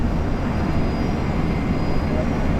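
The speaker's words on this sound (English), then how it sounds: "Arrival Jetstar flight 810 just arrived from Sydney" A Jetstar Airbus A320 arrives at Brisbane Airport after a flight from Sydney, its engines making a loud, steady broadband roar throughout that sounds close.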